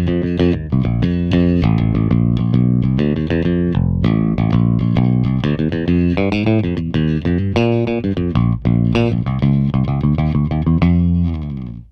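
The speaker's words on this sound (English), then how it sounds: "So I've just put some new flatwound strings on this bass, and it sounds like this." Electric bass fitted with new flatwound strings plays a continuous run of plucked notes, steady and loud throughout, with distortion or effects coloring the tone and no talking.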